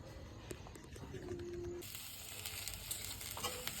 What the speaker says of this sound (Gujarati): ઢોકરાને વઘાર ચાલુ છે શીતલ હજાર વઘાર કરે છે